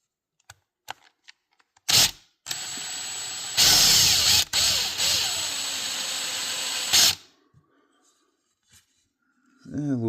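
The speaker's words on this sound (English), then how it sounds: "let's drill a hole in there" A power drill whines in several bursts into the neck of an old archtop guitar, starting and stopping, close up, with a few clicks between runs and a voice at the end.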